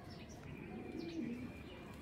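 A pair of racing pigeons, a male and a female, give soft low coos over a faint steady background hum, fairly close and quiet, with no talk.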